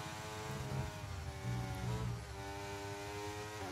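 The Haas Formula 1 car engine in a racing video game gives a continuous, buzzing high-revving whine with gear shifts and pitch changes, heard alone without talk.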